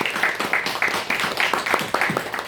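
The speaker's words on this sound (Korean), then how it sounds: "우리 한번 박수로 한번 환영하도록 하겠습니다" Church congregation clapping to welcome newly registered member families during a Sunday worship service, a modest group of hands beating in a loose, fairly rhythmic patter, close and clear without talk.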